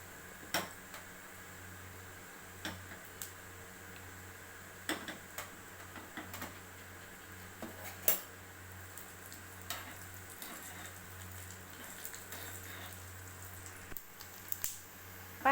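Mustard seeds, urad dal and cumin spluttering in hot oil while tempering for an idli sambar made without dal: a steady low sizzle dotted with sharp, irregular pops and ticks, close and fairly quiet, with no talking.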